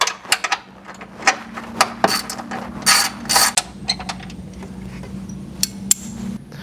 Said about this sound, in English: Disconnect the harness and remove that 10mm bolt.